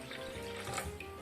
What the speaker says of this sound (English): first add 600 grams of water